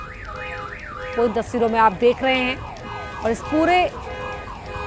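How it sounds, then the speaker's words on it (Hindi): Emergency vehicle sirens wail, sweeping up and down in the background at a cloudburst disaster site in Kinnaur, Himachal, while a person talks over them, with a second siren tone joining in. "आसपास गाड़ियों के सायरन भी आपको सुनाई दे रहे"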